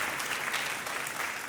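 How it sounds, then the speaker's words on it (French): Audience at a church gathering clapping warmly to welcome a guest, a short, dense, steady patter of many hands without a break. "Est-ce qu'on peut l'applaudir bien fort?"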